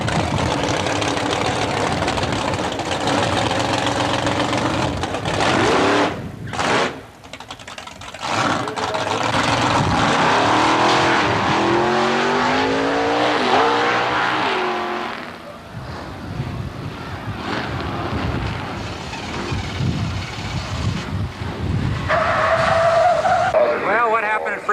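A drag race car with a Chevrolet engine roars past at speed, loud and close, with squealing tires and engine noise that fades, then swells again, while a voice talks over it.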